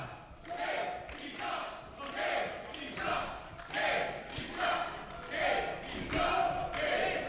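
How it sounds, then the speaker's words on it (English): Wrestling crowd at a PowerBomb Wrestling event chanting in a steady repeated rhythm against a wrestler, loud rhythmic bursts of many voices filling the arena. "The Casey sucks chants are going on."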